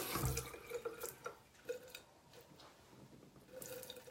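Tap water runs and splashes while a paintbrush is rinsed at a sink, quiet and close, with uneven gurgles and drips.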